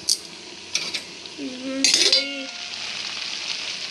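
Brinjal and tomato fry in a pan with a steady, close sizzle, punctuated by a few sharp utensil clinks and a brief squeaky scrape against the pan midway.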